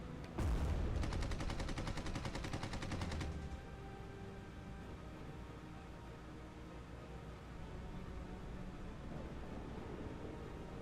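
Machine guns on a WWI biplane in the arcade flight game Red Wings: Aces of the Sky rattle in a loud, rapid burst for about three seconds, then give way to a steady engine drone.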